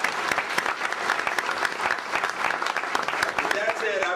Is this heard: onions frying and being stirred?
no